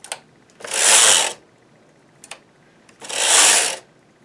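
A knitting machine carriage is pushed across the needle bed in two long rasping sweeps, each about a second, with faint clicks before and between them. Close and clear, no talking.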